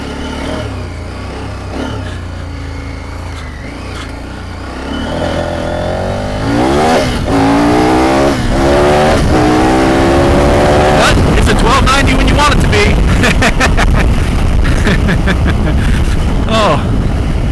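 KTM 1290 Super Adventure R motorcycle accelerating hard in a power wheelie, loud rising engine revs climbing through gears with a brief shift break, wind rush throughout.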